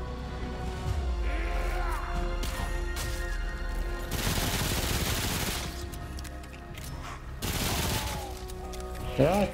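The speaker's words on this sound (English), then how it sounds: "And then I'm gonna test the machine gun." Sustained machine gun fire from the video game Remnant from the Ashes, continuous bursts with loud broadband blasts around the middle and near the end, over a busy game soundtrack.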